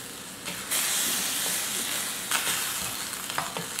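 Vegetable broth poured from the package into a pan of sautéing onions, cooked without oil, rising into a steady loud sizzle and hiss with a few brief stirring scrapes.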